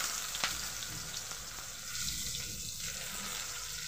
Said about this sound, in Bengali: তেলের মধ্যেই দিয়ে দেব পেঁয়াজ কুচি।